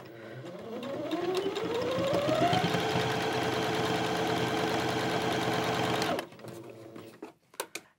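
A sewing machine stay-stitches fabric for a hat, speeding up into a steady close whir that lasts about five seconds before cutting off, with a few soft clicks afterwards.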